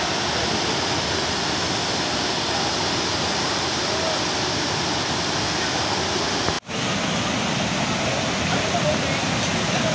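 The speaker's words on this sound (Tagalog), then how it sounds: "narating na natin ang first level ng Kawasan Falls" Kawasan Falls, first level, pours with strong rushing water: a loud, steady broadband roar that fills the whole clip, with one very brief dropout just past the midpoint.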